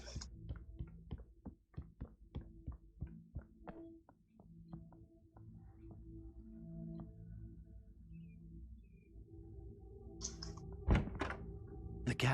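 In Alan Wake, a door is tried with a key: a quick series of soft wooden thunks and rattles, then quieter clicks and a final louder knock, all faint and with no talk.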